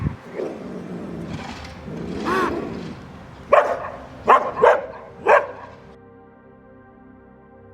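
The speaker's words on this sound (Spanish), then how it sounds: "Cuando un carpincho se siente amenazado, este emite un ladrido similar al de los perros." A capybara gives several short, sharp, dog-like alarm barks in quick succession, with rustling and a low murmur before them.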